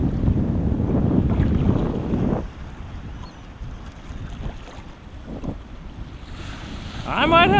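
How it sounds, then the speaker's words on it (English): Ocean surf rolls and breaks along a beach, a loud, steady wash with wind buffeting the microphone, easing after a couple of seconds before another wave surges in near the end. "All the waves do everything for you."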